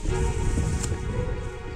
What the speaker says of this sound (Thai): ฝนตกบ้างหยุดบ้าง